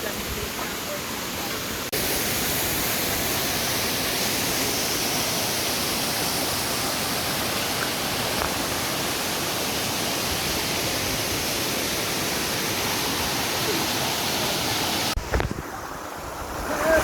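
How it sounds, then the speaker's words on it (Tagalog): Kaunayan Falls, a clean waterfall in Baler, Aurora, gives a steady, dense broadband roar of falling water that fills the scene evenly from start to finish, with a brief dip and rustle near the end. "ito yung Kaunayan Falls"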